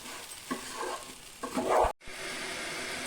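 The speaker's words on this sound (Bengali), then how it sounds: "1 চা চামচের মতন জিরা গুঁড়া দিয়ে দিব। ভালো করে আমি ভেজে নেব।" Ground cumin with turmeric frying in a pan for vegetable khichuri, soft sizzling under a few scraping stirs of a spoon, close and quiet, with a brief cut to steady background hiss.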